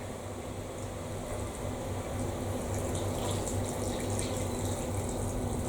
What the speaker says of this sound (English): A litre of stock.